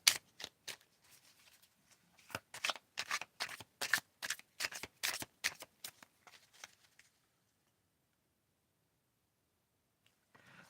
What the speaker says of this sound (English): I need shuffling practice.